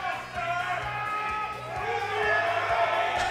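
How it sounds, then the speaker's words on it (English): A fighting game tournament crowd reacts with unhappy murmuring and scattered shouts after a pad left on paused a Street Fighter V match, a steady noisy din growing louder toward the end. "Crowd is not happy"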